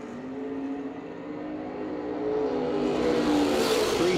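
A Dodge Charger drag race car with an old school pro stock look drones at a drag strip, its engine pitch climbing steadily as it builds and grows louder toward the end.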